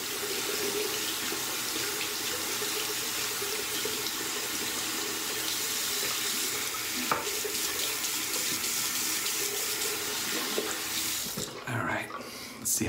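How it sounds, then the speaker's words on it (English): Tap water runs steadily from a barbershop faucet to wet two shaving brushes, a continuous close splashing hiss that stops abruptly near the end. "Wetting both brushes as well."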